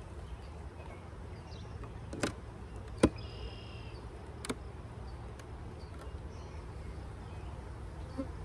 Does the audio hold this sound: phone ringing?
no